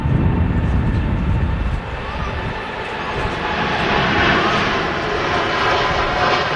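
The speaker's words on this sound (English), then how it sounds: "Gulf Air 787 now rolling down 23 right at Manchester on its trip down to Bahrain" A Gulf Air Boeing 787 Dreamliner begins its takeoff roll on runway 23 right at Manchester on a windy day, a loud, broad engine roar with heavy low rumble that swells steadily, heard from close by.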